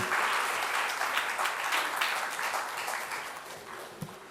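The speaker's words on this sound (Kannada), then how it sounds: "ಚಪ್ಪಾಳೆಗಳು ಖಂಡಿತ ಬೇಕಿದೆ ಎಲ್ರಿಗೂ." An audience at a centenary celebration in Bengaluru gives sustained applause before a welcome speech, dense clapping from many hands that slowly thins toward the end, heard without voices.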